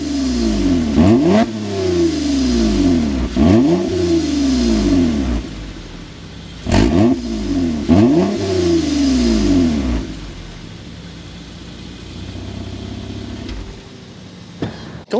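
A 2023 Toyota Camry TRD with a TRD catback exhaust revs hard several times from inside the car, each sharp rise in pitch falling back, with loud bursts through the first ten seconds before settling into a steady idle.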